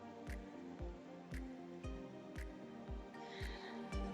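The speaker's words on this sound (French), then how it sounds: "je mets 2 œufs, 20 centilitres de crème fraîche et je bats bien" Two eggs beaten together with crème fraîche in a bowl for an onion quiche: close, rhythmic wet strokes landing about twice a second, each with a soft low thump, steady throughout with no talk.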